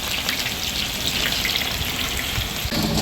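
Pakoda batter sizzles in hot oil, a dense continuous crackle and hiss of frying close by, with no talking.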